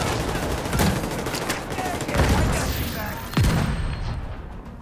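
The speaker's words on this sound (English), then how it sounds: "I hear gunfire." Gunfire in the video game The Division 2 during a global event battle, dense sustained shooting with heavier bursts and booms over a loud noisy game mix, with voices faintly mixed in.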